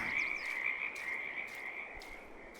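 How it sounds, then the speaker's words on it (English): Frogs croak in a dense, continuous chorus around a pond with lily pads on a farm in the Farming Simulator 22 video game, a steady close-up ribbit layer with no talking. "But it's absolutely infested with frogs now."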